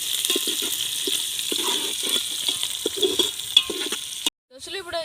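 Onions and green chilies sizzle steadily in hot oil in a pan while being stirred, with soft scraping knocks throughout, then a brief pause and a voice speaking at the end.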